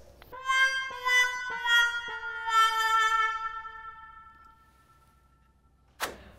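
Cartoony twanging effects from a homemade tape instrument with a stem inserted: a run of plucked, springy tones that bend and fade, ending with a sharp snap.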